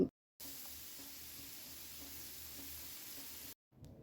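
Aubergine slices frying in oil in a pan, a faint, even hiss of sizzling that runs unbroken for a few seconds and is cut off abruptly at both ends.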